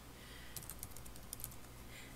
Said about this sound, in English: I can select and I hit backspace to delete.